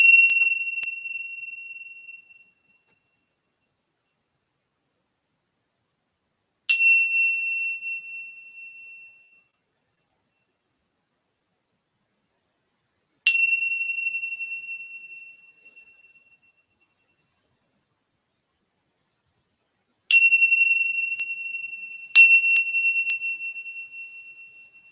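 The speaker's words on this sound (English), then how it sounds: "So these are the tincture bells." Tingsha bells struck in the corners of a room ring out five times at spaced intervals, each bright, high metallic chime decaying slowly into silence, with two strikes close together near the end.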